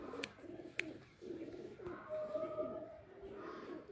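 A pair of pigeons coo softly, several low throaty calls in a slow rhythm at close range, with a couple of sharp clicks early on and faint background noise.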